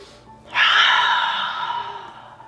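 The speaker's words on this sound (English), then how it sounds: "Taking a nice long inhale and a couple of long, loud exhales through the mouth." A single long, loud breath pushed out through the mouth during a yoga session, a breathy rush that starts abruptly, then slowly fades over about two seconds, close and alone.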